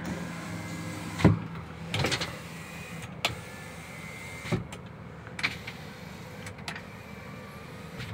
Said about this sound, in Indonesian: kita cek untuk power windows ya